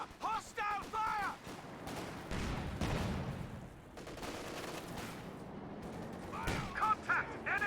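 Company of Heroes 2 battle gunfire, bursts of shots and heavier booms mixed with urgent soldier voice lines shouting over the fighting, loud and fairly close, easing in the middle before flaring again.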